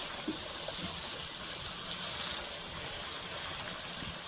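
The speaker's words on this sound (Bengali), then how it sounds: "এখন গরম পানি দিয়ে দেবো" Hot water poured into a pot of potato curry with spices, a steady, soft rushing and trickling of liquid that holds evenly from start to finish with no talk over it.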